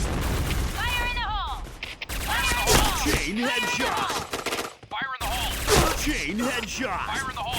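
A suppressed P90 submachine gun fires in the video game Point Blank, with dense rapid bursts of shots layered with other game effects and excited voices talking over the action.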